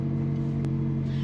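Engine of a barn-find Ferrari 328 GTS running just behind the driver, a steady low idle rumble with a brief sharp click partway through.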